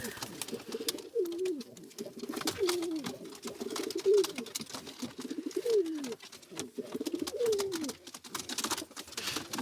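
Pigeons coo repeatedly in soft, rolling phrases, several birds overlapping close by against a faint, busy background.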